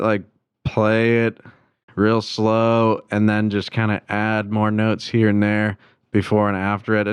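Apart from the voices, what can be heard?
None of the usual background noises is heard.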